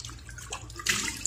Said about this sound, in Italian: Mettiamo un pochino di acqua